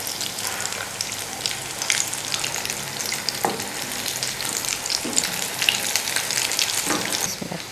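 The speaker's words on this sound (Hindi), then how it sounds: "कबाब को तल लेते हैं।" Potato kebabs shallow-frying in hot oil make a continuous, dense sizzle with occasional small pops. It is steady and close, and no one speaks.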